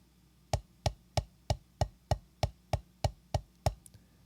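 Drumsticks play a triple stroke followed by a double stroke: eleven crisp, evenly spaced hits land close by in a steady pulse, each sharp and dry, with no talk.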